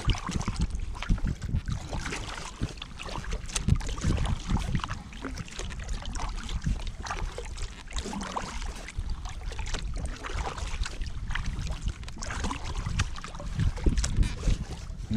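Kayak paddling on Loch Linnhe, with irregular splashes and dripping from the paddle strokes under steady wind buffeting against the microphone, close and fairly loud.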